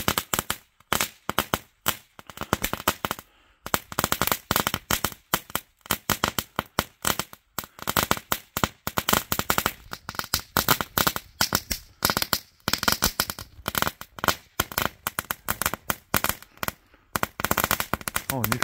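A New Year fireworks display in Valmiera bursts in dense, continuous rapid crackles and bangs close by, firecracker-like volleys with brief gaps, while people talk now and then.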